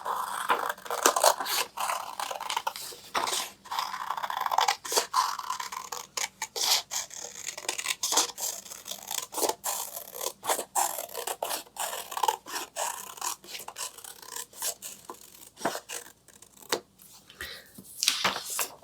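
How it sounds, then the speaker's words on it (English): Scissors snip and scrape through paper, cutting out an Easter egg shape from a template for a handmade card; a steady run of short, close, crisp cuts with brief pauses, no talking. "you're going to cut out your Easter egg and paper and the template provided."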